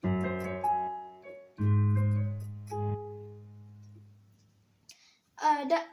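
Piano plays part 1 of the intro to a song: a few struck chords and melody notes ringing out and decaying to near silence, followed by a brief spoken voice at the end.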